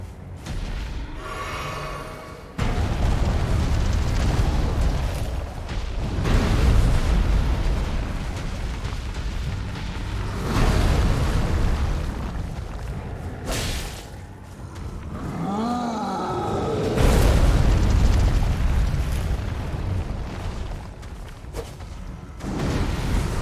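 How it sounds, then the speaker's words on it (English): Enemies blow up during Elden Ring combat: heavy booming blasts and rumbling bursts recur at intervals, loud and close, with brief quieter gaps between them. "Oh, you explode."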